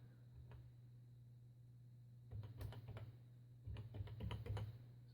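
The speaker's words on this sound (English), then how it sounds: "So if I just type in the name" Keys tapped on a Tandy TRS-80 Model 100 keyboard in two short bursts of quick clicks, close and quiet over a steady electrical hum.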